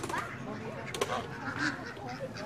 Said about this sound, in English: There's a duck coming over there.